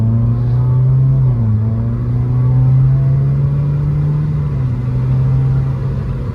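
A Subaru WRX with its muffler deleted cruises along with a deep, steady exhaust drone, fairly loud and close. The pitch shifts slightly as it drives, with no talking.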